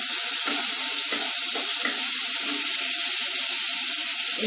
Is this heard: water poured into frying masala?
yes